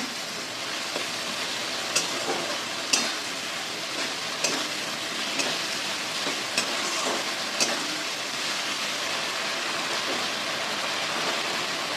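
Pointed gourd curry with tomato and chili sautés in a pan. A constant bubbling sizzle plays with occasional sharp spatula taps and scrapes at irregular intervals.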